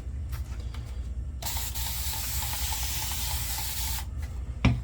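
Water runs from a tap in a steady, loud hiss lasting a few seconds, with brief splashes before and after, as the face is wetted before a shave.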